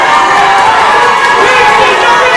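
A crowd at a wrestling match between Farrenheight and Mitch The Kidd cheers loudly and steadily, with a proud uncle shouting among the continuous roar of voices.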